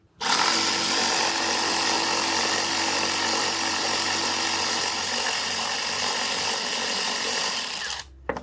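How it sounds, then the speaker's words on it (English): A power tool runs steadily for about eight seconds, loud and close, removing 10mm bolts from the battery box housing of a Ford Focus XR5 Turbo MK2 in a garage, then cuts off abruptly near the end. "I'm going to get the 3 10mm bolts out of the sort of battery box housing"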